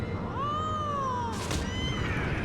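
A cat meows once in a drawn-out, wavering cry, followed by a short burst of noise, over faint background hum without talk.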